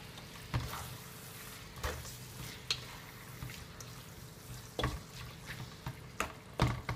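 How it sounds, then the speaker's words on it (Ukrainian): Chicken fillet is stirred in a frying pan under a soft, continuous sizzle, with scattered scrapes and clacks of the utensil against the pan at irregular intervals, close by. "Ми беремо наше філе, висипаємо туди. Все це ми гарно також перемішаємо."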